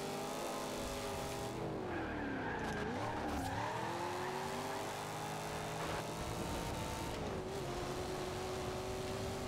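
Camaro racing through a field in Forza Horizon 2, engine roaring steadily with shifting pitch as tires squeal and skid, loud and continuous throughout.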